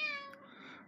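A single cat meows once indoors, a clear, drawn-out, close call with a falling tone and no talking.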